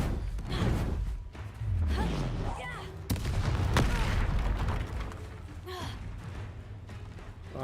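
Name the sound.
Bombarda and Confringo spell blasts in Hogwarts Legacy video game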